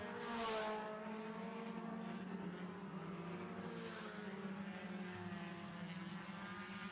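Four-cylinder stock cars race around a racetrack during a heat. Two distinct pass-bys roar in and fade with sweeping engine pitch, and a buzzing drone fills the gaps between them.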